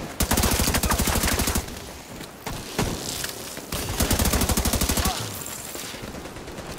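An enemy turret in The Division II fires long, loud bursts of rapid, evenly spaced shots, with brief pauses between strings of automatic fire.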